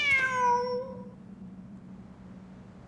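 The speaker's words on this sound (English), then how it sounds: "Wait, there it is! The cat!" A single drawn-out cat meow from a video game, close and clear, fading into a low ambient hum that carries on for a couple of seconds.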